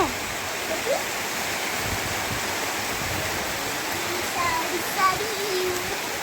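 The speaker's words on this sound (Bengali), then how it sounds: "রে বাপরে, বৃষ্টির আওয়াজ দেখেছো?" Steady, dense hiss of rain pouring continuously, with faint voices and a few small sounds underneath.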